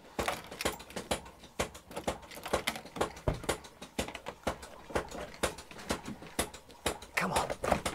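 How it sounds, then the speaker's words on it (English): Key working the lock of a 1990s Honda CRX door, a barn-find car left unused for twenty years, giving a run of close, sharp clicks and metallic rattles in an irregular rhythm, with no voices. "Unlocking the door for the first time in 20 years."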